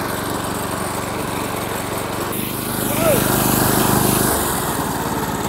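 Gas engine axe machine running steadily, a loud continuous buzzing motor drone that rises slightly in pitch partway through, heard up close.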